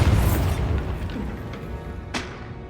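A magical Bombarda blast in Hogwarts Legacy bursts with a deep boom that rumbles away, followed by a second sharp crack and thud.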